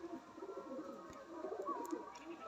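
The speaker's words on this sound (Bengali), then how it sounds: "দেখুন পায়রাটা" Soft cooing of Madrasi pigeons in a loft murmurs in a low band, with faint background noise and a few brief higher chirps; no talking.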